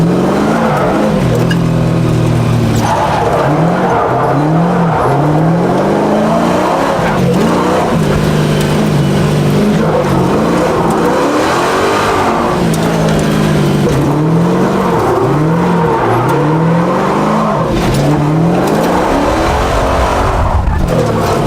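A 600 hp LS-swapped Nissan 350Z with a 6.9-liter naturally aspirated V8 drifts at Apple Valley Speedway, its engine revving up and down in repeated loud sweeps with tire squeal throughout, no talk.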